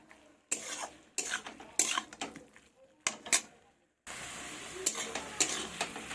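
Fresh spinach being stirred in a pan, repeated scraping strokes in irregular bursts over a low sizzle, with brief silent gaps and a steadier frying hiss at the end.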